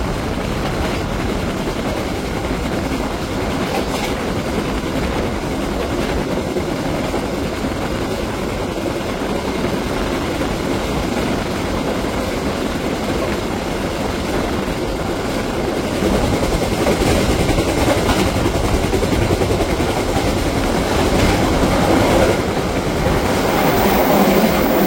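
The KA Airlangga passenger train runs steadily near dusk on a rerouted line, its carriages rumbling and rattling in a continuous broad roar for the whole stretch, growing slightly louder toward the end, with no voices.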